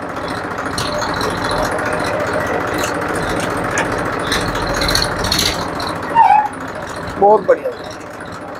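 Massey Ferguson 1035 DI tractor from 2010, original and in running order, idles with a steady low diesel rumble and rattle throughout, while someone talks over it and a few brief yips sound near the end.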